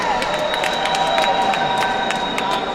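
Crowd cheering and whooping at a recovery rally, a steady, loud wash of many voices with sharp shouts popping out, filling the whole moment without pause.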